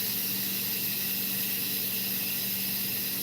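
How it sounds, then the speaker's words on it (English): A pressure cooker vents steam in a loud, continuous hiss that holds steady from start to finish, with no talking over it. "Don't ever try to open your pressure cooker until it is fully done venting the steam out of it."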